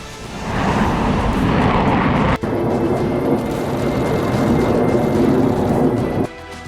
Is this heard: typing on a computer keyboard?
no